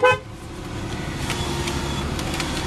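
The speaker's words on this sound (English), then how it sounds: "Starts up perfectly like every Lexus should." A Lexus with 156,000 miles starts up with a short, loud burst and then settles into a steady, close engine idle for the remaining seconds.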